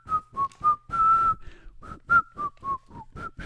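A person whistles a lively tune in short, bouncy notes with brief breaths between phrases, close and clear with no other sound behind it.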